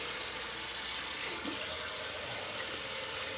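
Tap water runs into a kitchen sink as collard greens are washed and pressed under. It makes a loud, steady rushing hiss that fills the whole stretch, with no talk over it.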